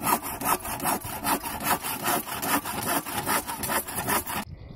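A hand saw cuts through wood outdoors at a village garden, giving a loud, close, rhythmic rasp of about a dozen quick back-and-forth strokes that stops abruptly at the end.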